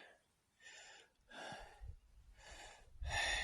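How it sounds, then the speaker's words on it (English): Heavy, labored breathing from a hiker on the southern Pacific Crest Trail in June, close to the mic: four long gasping breaths in a steady rhythm, growing louder toward the end. "It's been 200 yards, and I'm already breathing like this."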